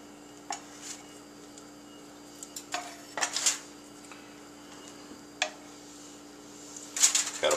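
A knife cuts through baked potatoes and knocks on a board or plate in a few sharp, separate clicks and taps. The sounds are close and sparse, with quiet pauses between them and a cluster of louder knocks near the end.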